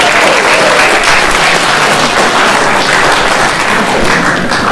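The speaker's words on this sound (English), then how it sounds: "I want you to give yourselves a round of applause" Loud, sustained applause from an audience gathered for a Wavy Gravy appearance in Santa Fe, dense clapping filling the space without a break.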